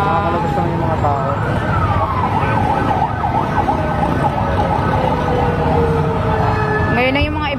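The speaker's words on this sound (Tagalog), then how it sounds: "Ngayon na yung mga ibang fire truck" Fire truck and emergency sirens wail continuously at a building fire on Doña Soledad Avenue in Parañaque City, loud and close, with rising and falling tones over road rumble and a second siren joining near the end.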